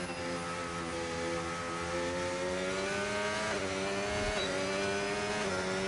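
An F1 race car in the video game F1 25 finishing a lap at Hungary: a steady, loud high-pitched engine whine with the pitch rising and shifting through gears, and no voices.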